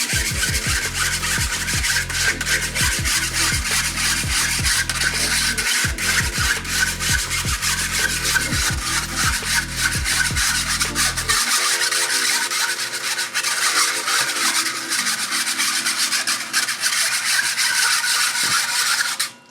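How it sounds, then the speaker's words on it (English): A whisk beats a mixture in a bowl through a strainer, a steady scraping, rubbing rhythm that carries on continuously for the whole stretch, close and fairly loud, with no talking. "Oh, I need a whisk. And you get a whisk, and you just"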